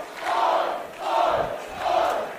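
A wrestling crowd at an indoor pro wrestling event cheers in three rhythmic swells, chanting together at a steady pace, loud and sustained from the audience.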